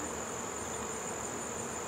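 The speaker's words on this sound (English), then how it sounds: "You see all these bees just swarming around the air." Honey bees swarm in the air around a hive on an orientation flight, a dense steady buzzing hum, close and continuous, with no voices.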